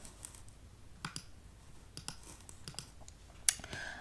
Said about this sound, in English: sorry for my poor typing